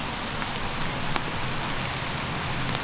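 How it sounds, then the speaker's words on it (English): Steady rain pours down continuously in a Portland, Oregon graveyard, a dense hiss of drops on a hard surface with no voices and no pauses. "You guys hear the rain falling?"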